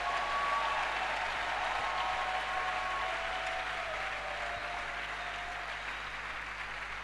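A church congregation claps for the Lord in a broad, steady wash of applause. It is heard from some distance and eases slightly toward the end, with no voices on top.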